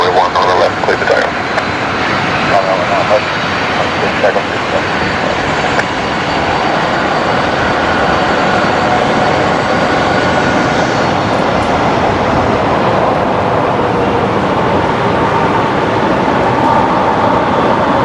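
An airliner rolls down the runway at Brisbane Airport for takeoff, with a loud, steady, broadband engine roar that holds constant throughout.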